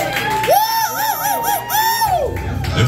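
Whoops and cheers from an audience at a drag talent night greet a Lion King soundtrack act, rising and falling in a loud, steady swell of crowd noise.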